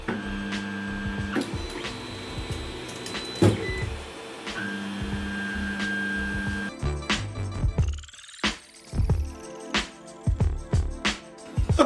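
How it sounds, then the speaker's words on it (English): A 3D printer begins a print: its stepper motors hum and whine in steady tones that shift pitch as the axes move, then break into quick stop-start buzzes and clicks, close up and without speech. "we're gonna get a 3D print started"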